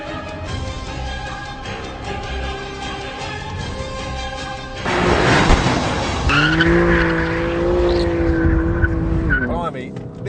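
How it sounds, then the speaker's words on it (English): A BMW M car accelerates out of the last corner of a race track and across the line, its engine revving hard while the tyres squeal and skid. The sound is loud and close, and it swells mid-run. "accelerating out of the last corner and across the line"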